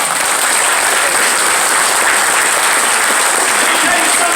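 Audience applause at a live gathering, loud, dense and continuous clapping that fills the whole stretch evenly and without pause, close to the listener.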